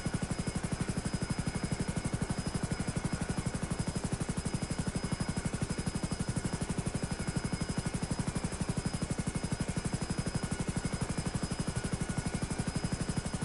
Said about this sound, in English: It's the fastest helicopter in the game.